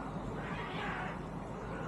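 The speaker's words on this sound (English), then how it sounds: "Oh, we can hear cats kicking off," Cats fighting somewhere outside a hotel in Kemer, a faint, drawn-out yowl rising and falling over a constant outdoor background hum, distant and quiet.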